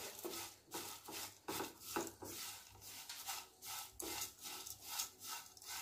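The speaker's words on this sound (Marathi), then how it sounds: "मिडियम टू लो गॅसवर हे छानपैकी पोहे असे खमंग भाजून घ्यायचे।" Thick poha flakes are dry-roasted and stirred in ghee in a pan over medium to low gas. A spatula scrapes and rubs against the pan in a repeated back-and-forth rhythm, close and moderately loud.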